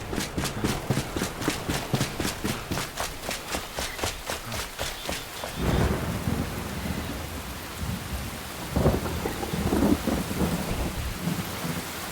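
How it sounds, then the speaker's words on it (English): Video game rain in Enshrouded: steady pattering with rumbling thunder rolls, over a fast rhythmic pulsing patter early on, everything evenly loud and close. "Yeah, it's raining."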